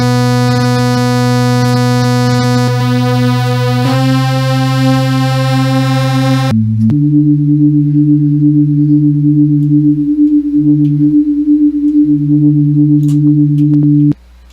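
An ANA 2 software synth oscillator with its sub-oscillator turned up drones as a loud, steady tone, shifting pitch in a few stepped jumps, then settling into a deeper sustained note that briefly cuts out twice before stopping abruptly.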